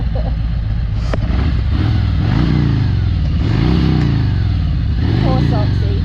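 A Harley Davidson motorcycle engine on a wet, flooded road trip, loud and close, rising and falling in repeated revs over a constant rumble, with a voice speaking briefly over it.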